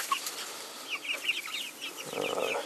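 Several chickens cluck and chatter close by in quick, overlapping bursts, with a soft rustling noise rising near the end.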